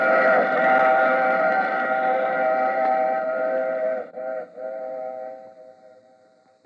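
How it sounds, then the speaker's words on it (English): Passing-train sound effect from a vintage radio drama, with loud, steady whistle-like tones over a rumbling rail bed that waver briefly, then fade out at the end. "I take this same train every week at this same time."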